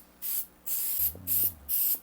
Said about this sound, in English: Now I'm going to hit this with some activator.